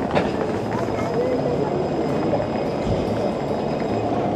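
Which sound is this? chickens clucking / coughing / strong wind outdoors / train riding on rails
train riding on rails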